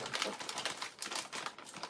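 Scissors snip open a food package in a kitchen, a quick run of sharp clicky cuts and crinkles repeating in an uneven rhythm, close and fairly crisp with no talking.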